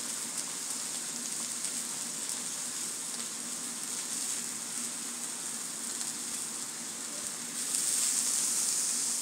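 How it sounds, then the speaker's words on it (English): A Hasselback potato cooks in an air fryer with a steady, faint sizzling hiss and fan whir in the background, running continuously without any talk. "You hear something in the background, that's the Hasselback potato and the air fryer."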